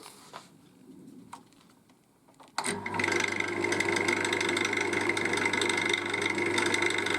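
A wood lathe spinning a wet English walnut bowl starts up after a few light handling clicks, then holds a steady motor hum with a faint rhythmic wobble, close and loud, without talk.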